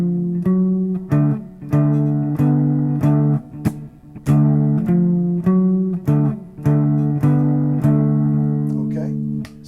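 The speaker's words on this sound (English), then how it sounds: "you can add a percussive stroke, which is just hitting the strings and muting them with your left hand" Blues guitar played in a steady rhythm, with ringing chords broken up by sharp percussive strokes where the strings are struck and muted by the fretting hand, giving a regular popping pulse.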